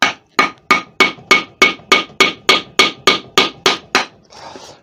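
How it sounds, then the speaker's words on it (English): An HDPE plastic mallet strikes a chisel into dry beech wood, thirteen sharp, evenly spaced close blows with short ringing decay, ending in a brief scraping rustle. "I'm going to smack this chisel through it using the mallet on that spot"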